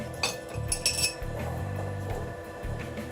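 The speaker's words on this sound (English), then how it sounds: "You just start whisking and whisking and whisking until you get what you want." A whisk clinks rapidly against a metal bowl while cold butter is worked into hollandaise sauce, a steady run of close, bright metallic taps with no talking.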